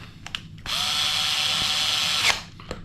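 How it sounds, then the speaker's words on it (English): A power drill drives screws into an off-road beadlock wheel rim, shown as a steady, close high-pitched whir of nearly two seconds with small clicks before and after. "So just going to quickly pop the screws in for that."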